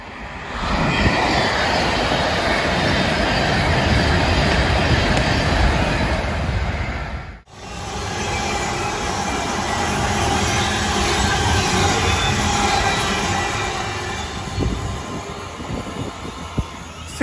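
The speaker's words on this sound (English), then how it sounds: "I'm just waiting for a train to come through, hopefully non-stop." Train rushing through a station near Wolverton Works at speed, a loud continuous rumble and roar of wheels and carriages that briefly dips, then resumes steadily and carries on close by without talk.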